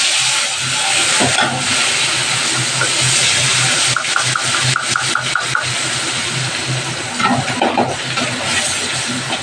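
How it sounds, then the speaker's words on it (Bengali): Spice paste of mustard, cumin, green chili, onion, ginger and garlic sizzling loudly in hot oil, a continuous close hiss with occasional spits and crackles. "এবার এই তেলের মধ্যে আমি এই যে মশলাটা করে রেখেছি, সর্ষে, জিরে, কাঁচা লঙ্কা, পেঁয়াজ, আদা, রসুন, এই মশলাটা আমি এখন দিয়ে দেব।"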